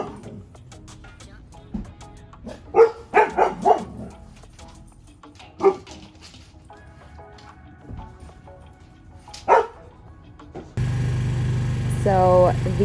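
Shaggy goldendoodle pups let out scattered barks and yips in short clusters, some loud and close, separated by quieter stretches, with people talking briefly at the end.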